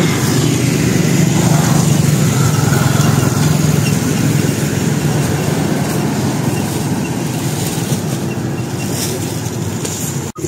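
Motorized tricycle with a carriage-like sidecar, a motorcycle pulling a calesa-style cab, its engine droning loud and steady at close range for the whole stretch, with no talk over it.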